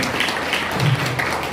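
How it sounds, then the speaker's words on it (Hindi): An audience at a Sunrise Public School event applauds loudly, a dense continuous wash of clapping that holds steady throughout, with a faint voice briefly under it. "जो बैठे सभी एक साथ जोरदार तालियों के साथ"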